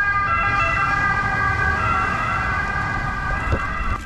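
A police siren wails steadily along a city street, its loud sustained tone rising over the rumble of passing road traffic throughout.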